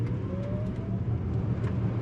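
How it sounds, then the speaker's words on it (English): Subaru Solterra electric car accelerating with four-wheel drive, heard from inside as a steady road and tyre rumble with a faint rising motor whine. "let's test acceleration of this car"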